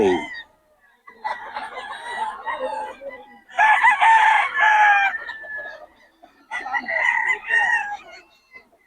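A young gamecock stag crows repeatedly at a busy Bocaue tiangge market, several loud, near crows with short gaps between bursts, alongside some clucking and faint background chatter.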